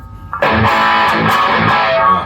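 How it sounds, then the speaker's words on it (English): A heavily distorted electric guitar chord through a Line 6 POD Go with a distortion pedal crashes in after a brief note and rings out loud and buzzy, with a few muted strums under it. "I would make this into more of a distortion"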